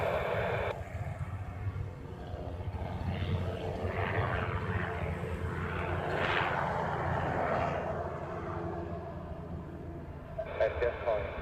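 Distant roar of a heavy jet airliner taking off from the Honolulu airport runway, swelling and fading steadily under continuous radio chatter from air traffic control.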